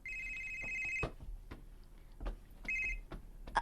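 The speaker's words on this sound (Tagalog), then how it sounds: "Oh, imong cellphone, si, tubaga." A cellphone rings in two electronic bursts, the second after a pause, with clicks and light handling noise between them and no talk.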